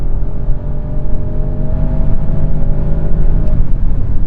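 Audi S8 accelerating hard on the Autobahn, a continuous engine drone with a smoothly rising pitch and steady road roar heard from inside the car, loud and unbroken.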